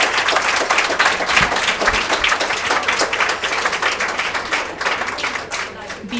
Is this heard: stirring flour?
no